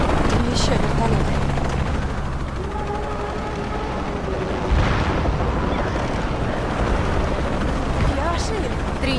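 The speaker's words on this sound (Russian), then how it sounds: "Еще вертолет." A video-game helicopter in Shadow of the Tomb Raider, with a loud, steady rotor drone that persists throughout and is punctuated by a few muffled combat bursts.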